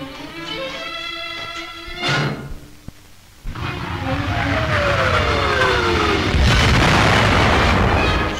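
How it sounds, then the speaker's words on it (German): Soviet harassing artillery fire in winter snow, a few heavy booming shell bursts, one sharp nearby blast then a rushing, rumbling roar that swells and lingers, loud and unaccompanied by speech. "Störungsfeuer der Sowjets"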